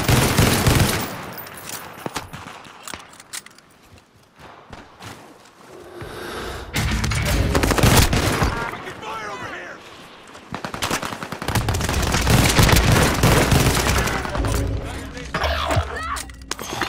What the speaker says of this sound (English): Another guy shooting me though from up top.